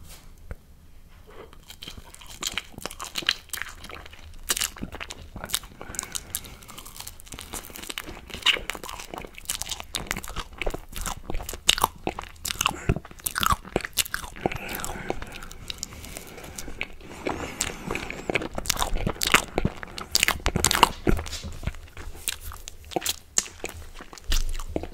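Close, steady crunching and chewing of torch-roasted marshmallows, with crinkly bites and sticky mouth sounds repeating for the full length, quiet and intimate with no talking.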